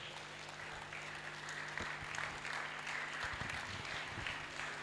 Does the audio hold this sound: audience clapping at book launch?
yes